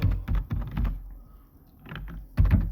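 Bursts of keystrokes on a computer keyboard while entering text into a spreadsheet cell, two quick clusters of close clicks separated by a quiet pause.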